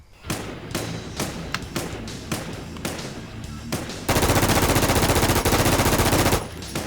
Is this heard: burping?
no